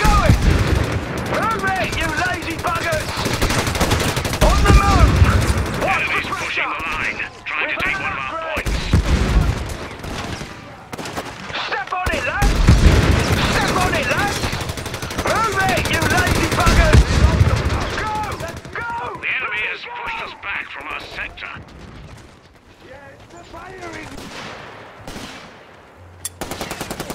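Machine-gun bursts, rifle fire and artillery rumble from a Company of Heroes 3 pre-alpha AI skirmish battle rattle loudly and almost without pause, swelling and easing in waves, with shouted soldier voices mixed into the combat.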